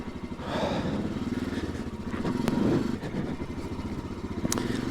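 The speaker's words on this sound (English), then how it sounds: "it looks like the bikes are going to try to cross very slowly" Motorcycles edge slowly past a stuck truck on a mountain road entering Himachal Pradesh from Ladakh, their engines a steady low rumble with light clatter throughout, close by and continuous.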